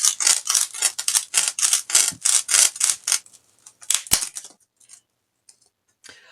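A straight paring knife sawing through a block of floral foam, a rapid run of close, crisp scraping strokes that gives way to a few sparse scratches and then near silence.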